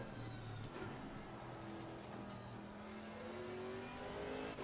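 A touring race car engine in a racing video game revs and climbs through the gears, a steady mid-pitched drone rising in pitch, close and fairly quiet, with no talking.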